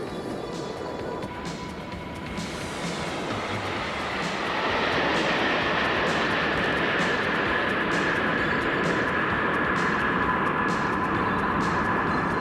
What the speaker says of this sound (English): We've just landed at the United Parcel Service hub in Ontario, California.